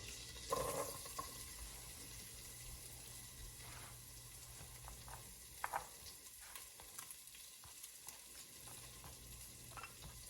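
Onions and garlic frying in butter, a steady broad sizzle running throughout with occasional stirring clinks and scrapes in the pan, no talking.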